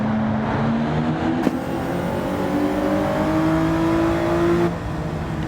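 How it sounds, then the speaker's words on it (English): Race car engine in Gran Turismo 7 held at high revs with a steady droning whine that rises slightly, then abruptly drops as the engine cuts out near the end, loud and continuous. "Suddenly the engine just cuts out."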